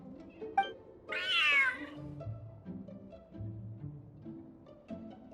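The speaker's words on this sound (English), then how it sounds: "Whoa, this cat is way bigger than the others." A cat meows once in Genshin Impact, a rising, drawn-out call that stands out clearly over a low game soundtrack and ambient hum, with no talking.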